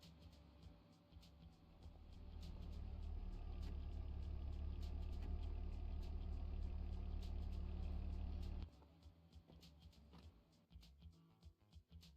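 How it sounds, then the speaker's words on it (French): A car arriving and idling in the video game Animal Shelter 2, a low engine rumble swelling up, holding steady for several seconds, then cutting off abruptly to quiet game ambience. "la voiture arrive."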